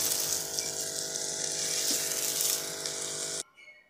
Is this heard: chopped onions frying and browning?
yes